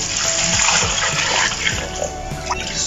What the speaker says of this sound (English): Then we'll pour in some water, generous amount of water,